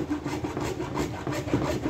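A hand saw cuts through a part for a homemade shower, giving a steady rhythmic rasping of back-and-forth strokes, close and fairly loud, with no talking.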